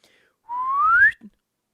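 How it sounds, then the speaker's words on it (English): A single short whistle, rising in pitch for about half a second, clear and alone against near silence. "Would you like a whistle? Let's give you a whistle."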